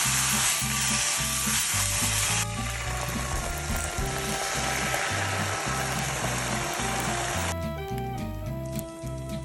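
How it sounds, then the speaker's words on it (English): A mushroom omelet sizzles and fries in a pan, a loud, continuous crackle with steady frying texture and a strong repetitive low rhythm running throughout, no speech. "I'm gonna make a little mushroom omelet"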